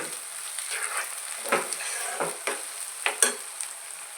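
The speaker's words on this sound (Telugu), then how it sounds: "ఉల్లిపాయలు బాగా ఫ్రై అయిపోయాయండి" Onions fry in a pan, a soft continuous sizzle with a series of spatula scrapes and stirs coming every half second or so.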